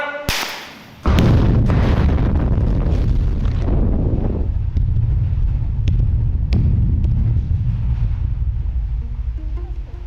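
A blasting charge goes off at a tin mine face in Cornwall, one sudden sharp crack followed by a long, heavy rumbling roar that slowly fades with a few scattered thuds, loud and alone.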